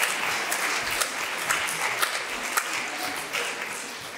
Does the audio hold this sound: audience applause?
yes